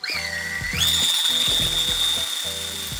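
A DeWalt 18 volt cordless drill drives a propeller paddle at high speed, giving a steady loud whine that climbs in pitch early on and then holds, with rhythmic low mechanical chugging beneath.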